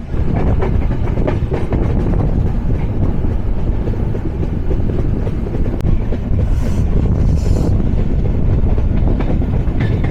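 Loud continuous roar of the 705 Ekota Express intercity train on a Bangladeshi line, steady wheel clatter and rushing wind heard close from aboard.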